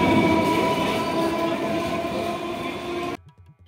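A Sealdah–Bangaon local train pulls out of Thakurnagar station, a loud continuous rumble of wagons with a steady tonal whine, cutting off abruptly near the end.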